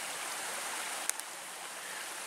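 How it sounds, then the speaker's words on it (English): A swollen woodland stream in Pennsylvania, running high after a night and day of rain, gives a steady, loud broadband rush of flowing water with no pauses and one brief click partway through. "the stream is a lot louder because there's a lot more water since it rained all last night and all today."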